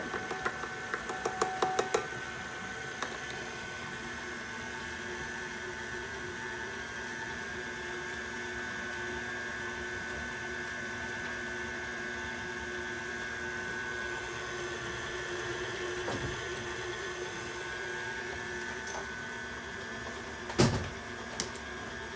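An electric stand mixer whirs steadily while beating baking batter, a continuous motor drone lasting throughout with a few clicks and knocks at the start and a sharp clatter near the end.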